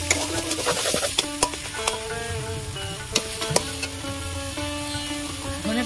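Boiled katla fish stirred into a spiced masala mixture in a pan: close, loud scraping and clinking of a spatula with sharp metallic taps over a soft sizzle, no voices.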